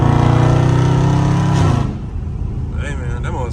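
A Dodge Scat Pack engine drones loudly and steadily with a deep rumble, then drops off sharply as it downshifts in traffic, leaving a quieter running engine under someone talking.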